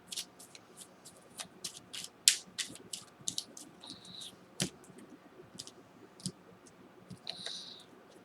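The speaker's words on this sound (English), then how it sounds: "One more shuffle." Quiet, close shuffling of tarot cards: soft riffles and crisp clicking snaps in irregular bursts, with faint rustling in between.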